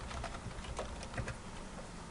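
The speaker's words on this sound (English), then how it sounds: "Notice as I am typing" Rapid, irregular clicking of fingers typing on a computer keyboard, close and fairly soft, keys tapping in uneven bursts with no voice over them.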